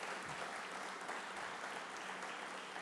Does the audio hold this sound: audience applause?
yes